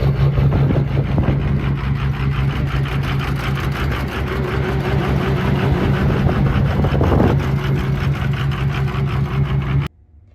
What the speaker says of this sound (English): I'm just going to insert a little clip here of the truck running before